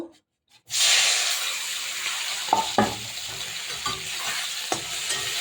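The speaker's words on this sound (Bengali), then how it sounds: "পুঁটি মাছগুলো দিয়ে দেবো। পুঁটি মাছগুলো ভাজা করব।" Puti fish hitting hot oil in a wok, a loud, steady close sizzle that bursts in suddenly after a short silence, with a few stirring scrapes and clicks through it.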